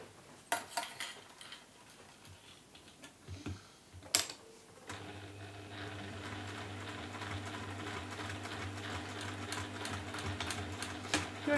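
A sewing machine stitches around the edge of a fabric box bag, its steady motor hum running continuously through the second half after a few scattered clicks and handling knocks at the start.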